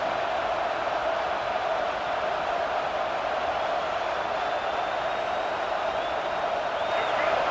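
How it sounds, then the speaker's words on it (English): Loud, steady roar of a packed college football stadium crowd at Tennessee versus South Carolina, a dense unbroken wall of cheering that holds at full volume throughout. "This crowd, full throat, splitting the eardrums and letting them know it's going to be a long day"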